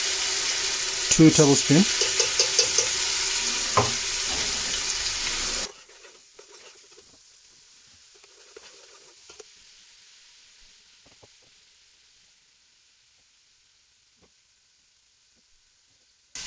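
Garlic ginger paste sizzles in a hot pan for lamb shank bhuna, a loud broadband frying hiss with stirring clatter over the first few seconds and a little talk, then cutting out abruptly to near silence with faint residual crackles.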